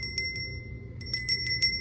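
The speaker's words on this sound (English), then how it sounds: "We have a bell" A small handheld bell kept by a bed during tonsillectomy recovery is rung several times in quick, bright metallic dings, close and clear over a low background hum, with no speech.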